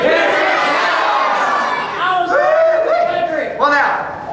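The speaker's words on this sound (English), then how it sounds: "I want y'all to yell out where you're from" An audience in the Tweetsie Palace Saloon at Tweetsie Railroad yelling out their hometowns all at once, a loud jumble of overlapping shouted voices lasting several seconds.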